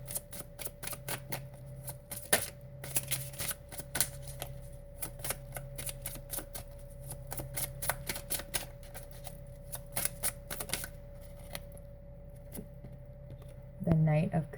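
Tarot cards being shuffled and drawn: rapid, crisp card flicks and snaps in clustered bursts, close and quiet against a faint steady hum, with a voice briefly at the end.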